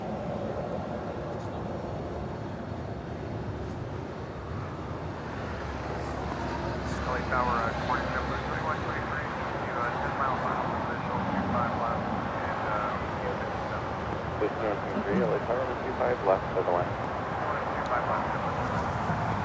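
An Alaska Airlines Airbus A321neo from Newark lands at Los Angeles International Airport, its engine roar swelling and rumbling at a distance, with people talking nearby throughout.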